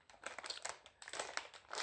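A plastic mail bag holding a Punk Rave hooded garment is opened close up, giving short bursts of sharp, crisp crinkling and rustling with brief pauses between them.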